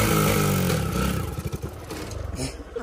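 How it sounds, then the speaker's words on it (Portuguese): A dirt-trail motorcycle, smoking and in trouble, revs loudly and close, then its engine note breaks into uneven, sputtering pulses as it fades out. "acelera a moto"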